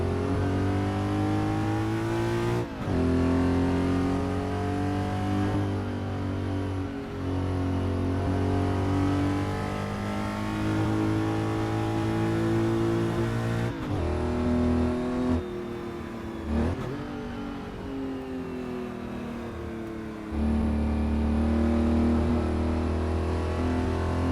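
A 1967 Porsche 911R flat-six in a racing game, revving hard through long climbing pulls, broken by quick throttle blips and gear changes, the engine loud, close and steady throughout with no talking.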